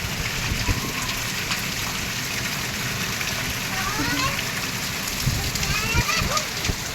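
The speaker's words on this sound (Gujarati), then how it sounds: "ચોમાસાની શરૂઆત થઈ ને એમાં પહેલો વરસાદ છે" The first monsoon rain falls steadily with splashing and pattering on surfaces, a constant wet hiss, while voices speak faintly underneath.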